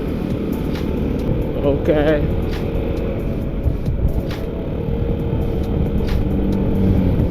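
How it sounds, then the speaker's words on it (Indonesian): Congested road traffic in Bali, a steady close engine and tyre rumble from vehicles around the rider, with a brief spoken word partway through. "Ini jalanan macet."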